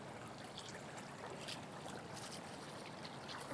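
Heavy current of the Chattahoochee River rushing past during fly fishing, a steady close wash of flowing water with faint splashy trickles on top, no talking.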